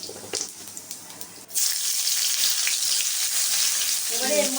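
Bay leaf dropped into hot oil in a home kitchen pan while preparing Bengali mutton kosha, a sudden loud, steady sizzle that starts partway through after quieter background clatter and continues evenly to the end.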